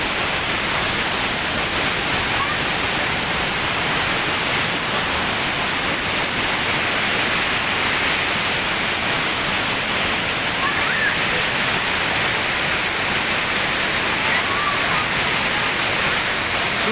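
Heavy monsoon torrent of the tall Amboli Ghat waterfall, a dense, steady roar of crashing water that stays loud and unbroken throughout, close by, with no other sound standing out.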